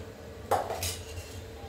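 Utensil scraping and clinking briefly against a pot while stirring boiling rice with roasted peanut powder, a short close sound alone.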